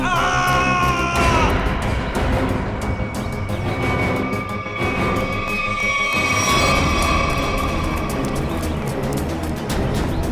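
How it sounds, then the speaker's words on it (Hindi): Loud, sustained screaming and yelling from a horror scene in a CID crime series episode, with several raised voices running for about ten seconds over a dense background of music and noise. "ये आवाज, ये चीखने की आवाज कहां से?"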